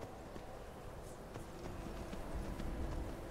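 Horse ridden in Skyrim: soft, faint rhythmic hoofbeats clopping along at a steady walking pace under a low background wash, with no talk.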